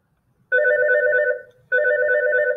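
A phone rings with an incoming call, two loud electronic ring bursts, each about a second long, separated by a short gap, with no talk over them.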